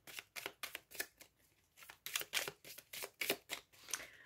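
Quick, crisp riffle-shuffles of a deck of playing cards before a card draw, a series of about a dozen close, snappy bursts with short pauses between them and no talking.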